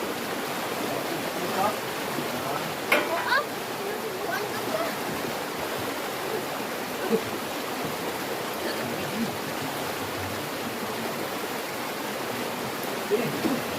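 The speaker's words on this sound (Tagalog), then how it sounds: "Lakas ng agos." Strong river current roars continuously, a broad steady wash of rushing water with a few faint scattered sounds on top.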